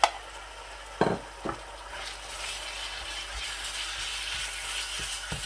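Minced meat keema is added to a pan with cooked garlic and fries with a constant sizzle, with a few sharp clatters of the spoon early on, then a steady hiss.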